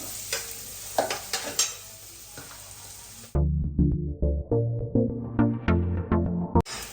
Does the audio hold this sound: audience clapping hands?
no